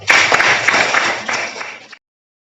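A classroom of students claps together, a dense burst of applause that is loud and close, lasting about two seconds before stopping abruptly.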